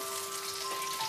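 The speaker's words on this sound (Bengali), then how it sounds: "এবারে একই তেলে আমরা প্রথমে গোটা জিরেটা ফোড়ন দিচ্ছি, হালকা ফ্রাই করে নেব।" Whole cumin seeds tempering in hot oil for a Bengali prawn curry, a steady close crackling sizzle with fine popping that continues evenly throughout.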